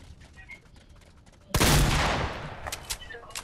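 A heavy shotgun fires in a video game: one sudden, loud, close blast cuts through quiet background, followed by a broad decaying roar and a few more sharp reports.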